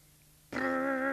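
A toy car gives a sudden steady electronic engine tone that starts after a short quiet pause and holds loud and buzzy to the end, with no talking.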